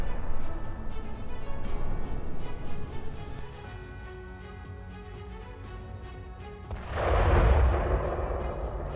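A deep, heavy explosion booms out in Gaza near the end, loud and rumbling, after a stretch of low background noise.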